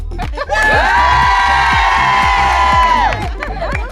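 A crowd cheers and shouts loudly in one sustained swell lasting a few seconds, with rhythmic clapping running underneath and continuing as the cheer fades.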